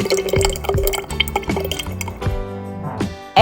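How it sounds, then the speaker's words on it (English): Salad dressing mix of red wine vinegar is poured into a lidded jar, making a series of rhythmic liquid glugs and trickles that rise slightly as the jar fills, then stop near the end. "Open a jar that has a lid and pour dressing mix into it."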